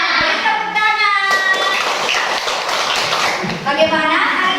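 Children in a fourth-grade classroom clap together in a dense, sustained burst of hand claps lasting several seconds, with a teacher's voice speaking before and after.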